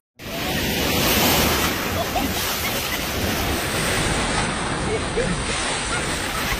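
Ocean waves surge and crash on a beach in a loud, continuous wash of surf with wind buffeting the microphone, the roar steady from start to end.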